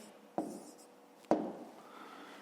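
A pen writes out a solution to a fifth-grade math problem by hand, giving two short, close scratching strokes with a quiet pause between them and no voices.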